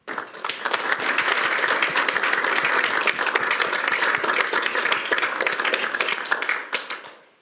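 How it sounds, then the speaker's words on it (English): People at a city council meeting applaud as a new police officer's badge is pinned on, a full, steady round of clapping that rises quickly and fades out at the end. "and another round of applause"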